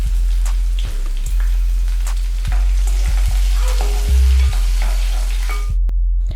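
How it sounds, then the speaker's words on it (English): Chopped garlic and cinnamon fry in heated oil, a steady loud sizzle with crackling pops and occasional stirring clinks, continuous throughout with no talking. "garlic and cinnamon into heated oil"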